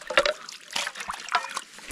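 Cold water trickling and splashing over hands while cleaning squid and rockfish outdoors in Alaska, a close, uneven series of dribbles and small splatters.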